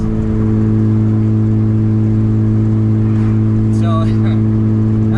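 Loud, sustained engine drone from a Mazda RX-8 held at high revs, misfiring and breaking up, with a steady rough hum close by and a brief higher squeal near the end; talking is heard over it.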